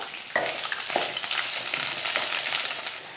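Small shallots, garlic cloves and curry leaves sizzling and frying in a hot pan for a chutney, with a steady crackle and a few stirring scrapes, close and continuous.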